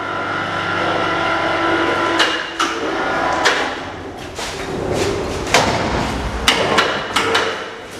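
A homemade roll forming machine runs steadily while shaping door frame sections, a continuous mechanical drone punctuated by repeated metallic knocks and thuds at irregular intervals.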